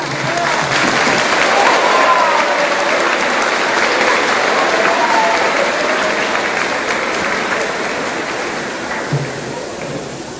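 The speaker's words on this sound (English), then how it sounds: "Let's give her a round of applause." A large crowd applauds loudly and steadily at a high school Ride with Pride celebration, dense clapping sustained throughout with a few voices mixed in.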